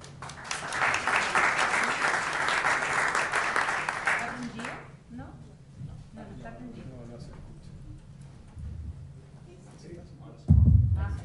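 Applause from a crowd fills the first few seconds, then fades out as a voice begins speaking over quieter room noise.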